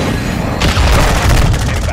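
Rapid bursts from a Vector submachine gun in a multiplayer shooter, loud and close with dense repeated shots, mixed with game effects and background chatter.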